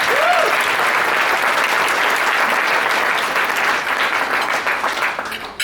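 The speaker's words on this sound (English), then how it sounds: "Let's get a round of applause for Dylan." Steady, sustained applause from a crowd at an Indian wedding after a speech, dense and even throughout, tapering slightly at the very end.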